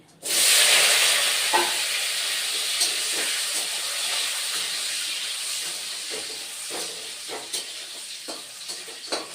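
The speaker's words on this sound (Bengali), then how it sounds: "আলুটা অল্প ভেজে নিব" Potatoes frying in a pan for a vegetarian dish, a sudden loud hiss at the start settling into steady sizzling with occasional scraping stirs.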